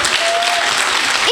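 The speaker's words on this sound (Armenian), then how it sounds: "Եկեք կրկին բարձր ծափարենք մեր փոքրիկներին։" An audience applauding children at a vocal studio event, a dense burst of clapping from many hands, close and loud, running throughout.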